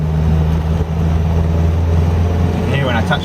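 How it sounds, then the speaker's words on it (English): Datsun 1000 with a worn clutch thrust bearing, driving at speed: a steady engine and road drone with a rough mechanical whir as the clutch is touched, loud and continuous inside the car. "You can hear when I touch the clutch. Hear all the thrust bearing noise."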